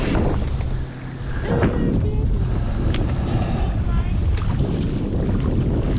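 Wind buffets the microphone on a bass boat out on the water during fishing, a loud, steady rushing roar with water slapping beneath it and brief faint sounds of movement aboard.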